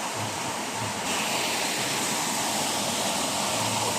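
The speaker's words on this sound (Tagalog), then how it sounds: "So ito guys, Banisa Falls ng Baligyan, Zamboanga del Norte." Banisa Falls waterfall in Baligyan, Zamboanga del Norte, a loud, unbroken rushing roar of falling water close by, filling the whole moment.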